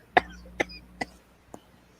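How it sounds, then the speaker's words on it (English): A person coughs in four short, dry bursts, the first loudest and the rest fading, close up in an otherwise quiet room during a casual online hangout. "And the coughs and the chokes."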